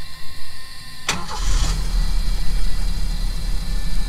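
A 1979 Ford Mustang coupe with a manual transmission cranks briefly and catches, then settles into a steady, rumbling idle close to the microphone.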